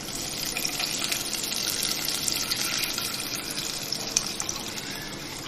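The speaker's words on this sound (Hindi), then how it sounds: "और अब इसमें मैं ये दूध डाल रही हूँ।" Milk poured into a pan for shahi tukray, a steady close liquid pour with an even rushing hiss held through the whole stretch, without pauses or talk.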